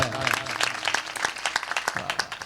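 An audience at an akhand harinam saptah kirtan gathering claps together in a brisk, even, close burst of applause that carries on throughout.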